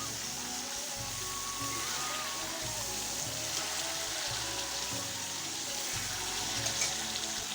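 Potatoes for a meat curry sizzle and crackle in oil over a wood-fired stove, a soft, continuous frying hiss heard close but quiet, with a low pulsing rumble underneath.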